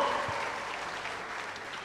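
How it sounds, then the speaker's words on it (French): Audience applause at a stand-up comedy show fills the room with steady, moderately distant clapping that fades slightly toward the end, with no voices on top. "Est-ce qu'on peut applaudir pour ma mère?"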